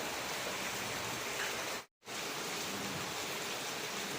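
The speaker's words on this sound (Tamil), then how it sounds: "நல்ல மழை பெஞ்சின்னு இருக்கேன் கொஞ்சம் வெயிட் பண்ணி தான் போகணும்" Heavy rain pours down outdoors in a dense, steady hiss, broken once by a brief cut of near silence before the downpour continues at full strength.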